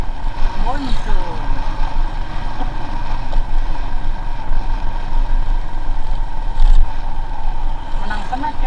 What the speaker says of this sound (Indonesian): Motor apa itu, Dek?